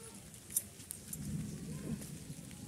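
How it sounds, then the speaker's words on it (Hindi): Light drizzle falls outdoors in the season's first rain, a soft steady patter over the whole stretch with one brief sharper drop near the start. "झिमिर झिमिर पानी शुरू हो गए संगी हो।"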